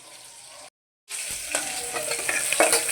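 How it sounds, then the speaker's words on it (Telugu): Green chillies fry in a pan with a bright, steady sizzle and scraping stir strokes, broken by a brief moment of silence near the start. "కొంచెం దోరగా వేగినంత వరకు అలా మనం వేయించుకొని పెట్టుకోవాలండి"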